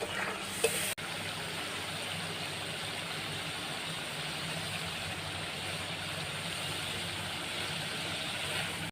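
Onion, ginger, garlic and dry spices sizzle and fry in a pan for a chicken curry, a steady close hiss broken by a brief clatter of stirring near the start, with no talk.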